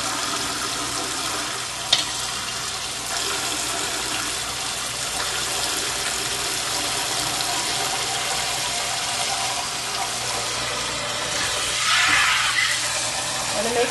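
Water boiling in a large canning pot holding submerged glass jars, a steady close hiss and bubbling roar throughout with a brief clink near the start and a slight swell toward the end.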